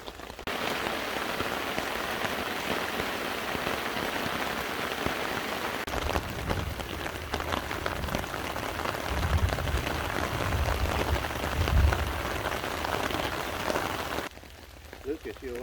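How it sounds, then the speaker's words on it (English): Steady rain falls outdoors in cold, wet wilderness weather, a dense continuous patter for most of the stretch with heavier low rumbling drops near the middle, before the sound thins out abruptly at the end. "we never got much more than a rain like we're experiencing right now"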